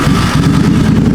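A 2005 Suzuki Boulevard C50 motorcycle with 22,333 miles just after starting, its engine running steadily and close by with a low, even rumble and no talk.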